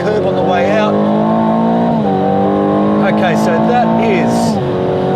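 A 2024 Aston Martin Vantage with a twin-turbo V8 accelerates hard down a track straight. The engine note is loud and climbs through the gears, with a person talking over it.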